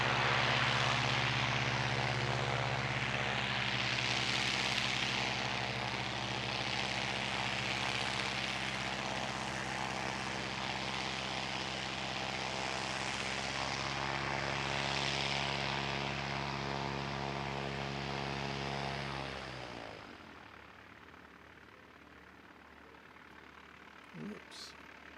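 An ATR 72-600 turboprop airliner's engine drones loudly and steadily with a pulsing, propeller-driven roar, heard from the ground at an aero club, then fades away after about twenty seconds, leaving quiet.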